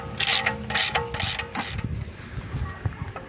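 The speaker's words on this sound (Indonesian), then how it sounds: "Kita kencengin pakai ratchet." A ratchet wrench tightens a 17 mm bolt on a 2007 Hyundai Avega during an oil change, giving a few close, quick clicking strokes followed by lighter metallic ticks.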